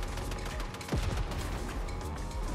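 A turret fires in a video game shootout, a dense rattle of rapid shots with a heavier boom about a second in, loud and continuous throughout.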